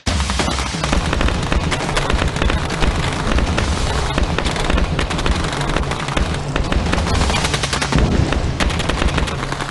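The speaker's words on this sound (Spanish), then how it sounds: "Se oyó el primer disparo del intento de golpe de Estado." Dense bursts of rapid automatic gunfire at the outbreak of a coup attempt in Guatemala, loud and continuous with crackling volleys and booms running throughout.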